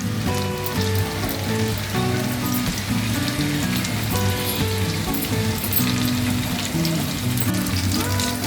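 Tandoori chicken frying on a tawa over low flame, a steady dense sizzle running throughout beneath louder background music.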